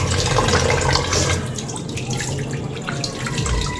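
Running tap water splashing and trickling as fish are washed at a sink, close and continuous with uneven surges of water.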